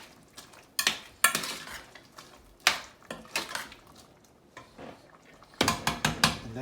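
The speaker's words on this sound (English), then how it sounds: "Give it a stir." Spoon scraping and clinking against a pot while beans are stirred, a series of sharp metallic knocks and scrapes in irregular bursts, close and moderately loud with no voices.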